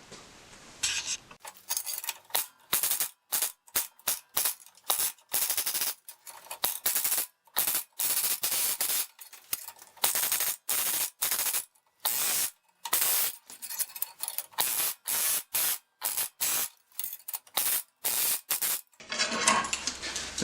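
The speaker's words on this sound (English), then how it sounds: "the next thing I'm going to do is I'm going to use a hammer bit on here" A flowforming machine's hammer bit stretches the edges of a sheet metal panel, giving rapid bursts of loud metallic hammering separated by short pauses, close and alone throughout.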